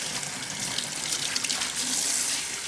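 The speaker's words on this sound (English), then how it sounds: "you can actually just rinse this off real quick" Tap water runs steadily over raw salmon being rinsed in a kitchen sink, a continuous close splashing hiss with no talking.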